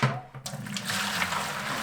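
Just-boiled hot water pours steadily into a large orange plastic bucket for mixing hide-tanning solution, a continuous splashing rush that starts after a brief pause and stays fairly loud and close, with no talking.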